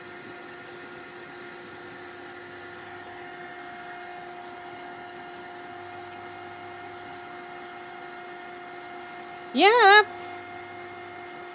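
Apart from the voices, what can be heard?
heat tool drying a doily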